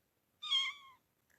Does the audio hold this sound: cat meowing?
yes